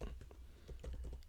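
Faint, quick keystrokes tap on a computer keyboard in a rapid, uneven rhythm, close but quiet.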